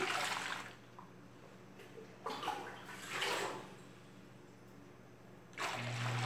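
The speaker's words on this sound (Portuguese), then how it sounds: "eu vou colocar dois litros de água fria" Cold water gushes into a container in a few separate splashy pours, each lasting about a second, with quieter pauses between them, while homemade liquid soap is being made.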